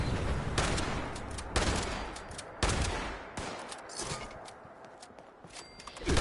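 Gunfire in Fallout 76: several sharp shots a second or so apart, a little distant and moderately loud, each followed by a short decay, with soft movement noise between them.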